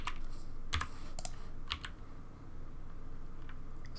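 Shortcut keys clicking on a computer keyboard while working in 3D modeling software, a few sharp separate taps over a steady background hum.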